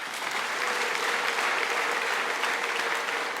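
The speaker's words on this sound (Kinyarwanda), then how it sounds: "ndagira ngo mufashe tubikomere amashyi menshi" Steady, dense applause from a church congregation at a memorial gathering for a pastor in Gisenyi, sustained and even throughout with no speech over it.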